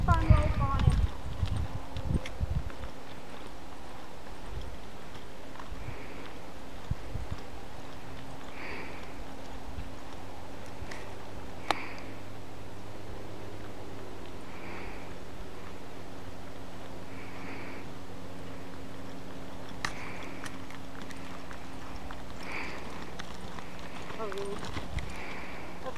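A horse loping on the ground, soft rhythmic hoof thuds recurring every second or two, fairly faint beneath a steady background hum, with a burst of handling noise at the start.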